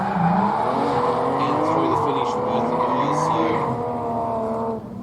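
Drift cars in a pro-class drift competition at a motorsport complex, led by a BF Falcon, roar continuously with engine drone, near and loud, with tire squeal layered over, and a commentator talks throughout.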